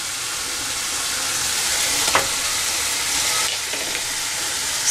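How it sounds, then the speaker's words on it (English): Egg curry masala with halved boiled eggs stirred with a folding motion in a hot pan for Chettinad egg curry, a steady close sizzle and hiss with a few louder scrapes of the spoon. "stir this mixture well."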